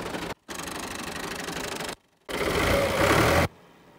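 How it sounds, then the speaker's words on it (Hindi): A steady, loud Ghazi tractor engine from 2017 idles in bursts, cutting out briefly twice, with a rough, rattling mechanical hum and a heavier, louder stretch near the end. "स्टार्ट करके ट्रैक्टर तुम चेक करा दें।"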